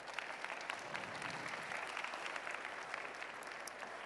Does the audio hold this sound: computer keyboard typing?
no